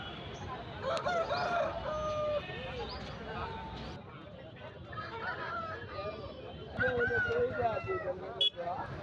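A rooster crows several times at the Rayachoti weekly market in Kadapa district, its loud, rising-and-falling calls standing out over a constant background of market bustle and voices.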